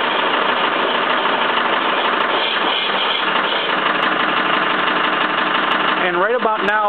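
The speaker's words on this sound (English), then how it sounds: "The motor is only running by power from the battery at the switch, and that battery is being continually charged by the alternator" A Bedini motor runs with its alternator spinning, a steady dense mechanical hum and whir held close and loud throughout, with a brief warbling shift near the end and no talk.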